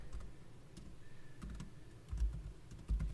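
A computer keyboard clacks with quick, uneven keystrokes as a sudo mv command is typed on a Linux GNOME desktop, a few heavier thumps landing near the end.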